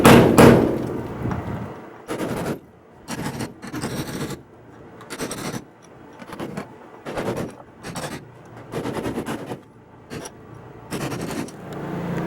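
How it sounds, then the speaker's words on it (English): Rivets are driven out of a car body panel in about ten sharp, separate bursts of metallic banging and rattling, close and loud, with quieter gaps between them and no voices. "Now I have to push all these rivets out."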